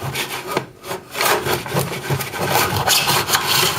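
A hand saw cuts through bread set in a miter box for an asparagus omelet sandwich, with loud rhythmic back-and-forth rasping strokes close up and no talking.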